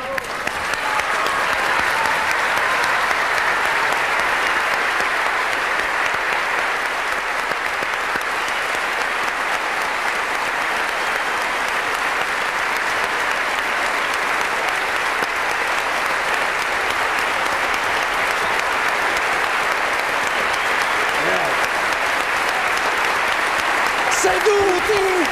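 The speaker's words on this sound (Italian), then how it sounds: "Ma perché non applaudiamo Corrado alzandosi tutti in piedi" A studio audience on the Italian TV show Il pranzo è servito, at its 1500th episode, gives Corrado a long, sustained round of applause. The clapping is loud and dense and runs steadily for the whole stretch with no speech over it.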